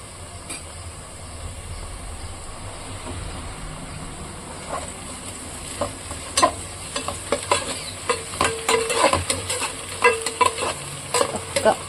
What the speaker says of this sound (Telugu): నిమిషం పాటు వేయించాలి ఫ్రెండ్స్